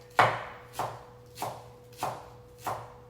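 A knife chops vegetables on a board for a Spanish frittata, five evenly spaced, close, solid knocks at a slow steady rhythm, with a faint hum under them.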